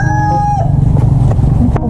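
A rooster crows loudly and close by among many chickens, its long call trailing off as other birds cluck in the background at a farm.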